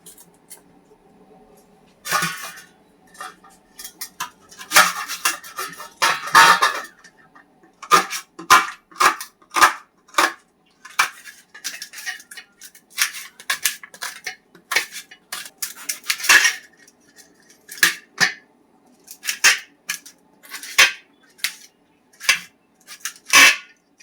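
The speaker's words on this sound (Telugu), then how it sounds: "తర్వాత మనం టమోటా ఎర్రగడ్డలు కట్ చేసుకుందాం" Tomatoes and onions are chopped for egg biryani, a knife knocking sharply on a cutting board in irregular bursts of quick taps with short pauses between them. The chopping is close and crisp, with no talk.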